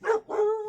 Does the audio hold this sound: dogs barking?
yes